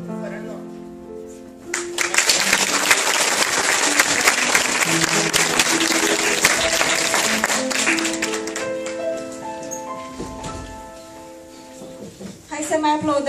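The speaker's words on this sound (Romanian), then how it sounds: "Hai să mai aplaudăm încă o dată." Audience applause at a Women's Day (8 March) celebration event, a sustained wave of many hands clapping that rises abruptly and fades, with background music tones and voices around it.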